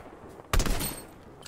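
A single loud burst of gunfire erupts in Fortnite, a sharp crack followed by a brief decaying tail, with no talking over it.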